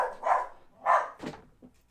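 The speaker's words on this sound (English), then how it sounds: "Is that why the dog is growling?" A dog gives several short, sharp barks and yips, close and fairly loud with brief pauses between them. The sound is more barking than a low sustained growl.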